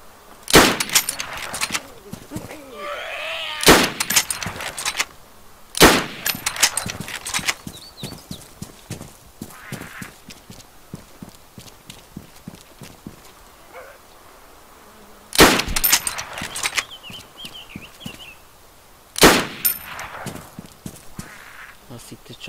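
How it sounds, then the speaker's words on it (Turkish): Loud gunshots ring out in the survival video game DayZ, several sharp bursts spread across the stretch with rapid clicking and footstep-like game sounds in between. "çok ateş ettin"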